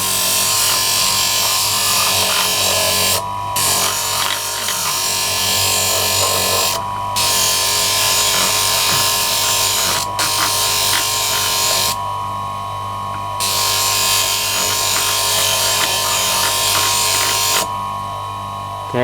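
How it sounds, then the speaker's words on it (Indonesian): Hand sanding of an arrowhead point with 400-grit sandpaper, continuous loud, close rasping strokes with a steady back-and-forth rhythm and a few brief pauses. "kita amplas lagi, menghaluskan dan meruncingkan"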